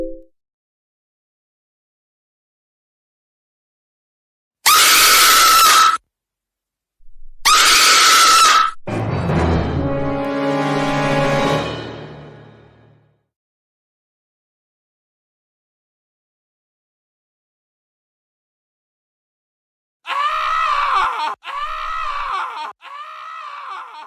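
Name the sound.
someone screaming loudly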